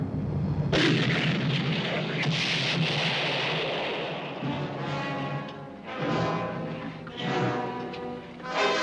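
Artillery cannon fire in a 1951 Civil War-era western film opens with a sudden loud blast, followed by rolling rumbling booms and further swelling detonations that fade and return.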